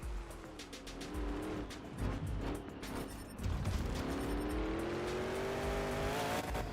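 Engine roar and tire squeal from a car pulling a wheelie in a racing video game, a continuous revving drone with a rising pitch sweep midway and a short screech, loud and close with game music faintly underneath.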